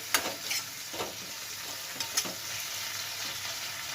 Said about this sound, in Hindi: मसाला में प्रॉन को अच्छे से हमें पकाना है।